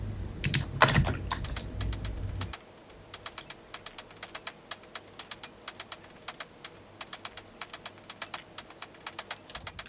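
Dry closed hi-hats layered with a Shaperbox effect in a minimal house track tick in a rapid, steady pattern, quiet and crisp, after a brief louder burst at the start.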